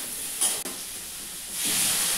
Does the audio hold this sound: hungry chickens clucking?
no